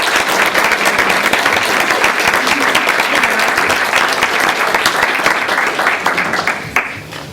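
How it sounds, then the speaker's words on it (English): A room at a county Board of Education meeting fills with dense, loud, sustained applause for school principals, which tapers off near the end. "let's give them a round of applause."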